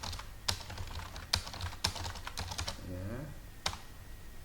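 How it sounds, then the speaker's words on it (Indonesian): Keys clatter on a computer keyboard while text is typed into a PowerPoint slide, a run of scattered close clicks with a few sharper strokes, alone with no talk over it. "Saya ketik seperti itu."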